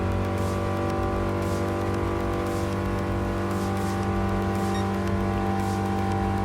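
Race car engine in Gran Turismo Sport during a custom race with a Toyota AE86, a dense continuous buzzing drone with layered harmonics at steady high revs as one car passes another, loud and close.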